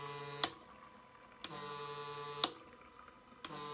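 A fuel injector cleaning rig runs the injectors from a turbocharged MK2 GTI 16V, holding a quiet steady electrical hum while four sharp clicks come at even one-second intervals. It is faint and close, with no talking.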